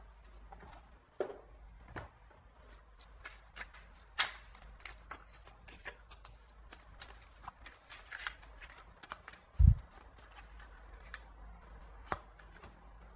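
Oracle cards being shuffled by hand, soft quiet riffles and taps with scattered sharper card slaps in a calm room, no voice.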